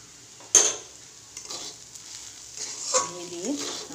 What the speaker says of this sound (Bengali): আমি অল্প করে ওপর থেকে একটু ঘি দিয়ে নামিয়ে নেব।